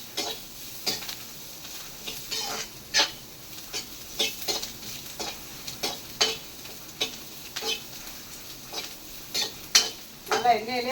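Pirandai (adamant creeper) frying in oil for a thuvaiyal, a steady sizzle broken by rhythmic scraping stirs at roughly one-second intervals, close and moderately loud, with a brief clatter near the end.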